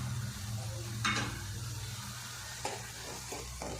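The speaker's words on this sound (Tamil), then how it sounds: "இப்போ இதை லோ ஃப்ளேம்லேயே நம்ம வதக்கி விட்டுக்குவோம்" Crushed ginger and fresh garlic sautéing in oil in a pan over a low flame, a quiet, even sizzle broken by a few stirring scrapes, with no one speaking.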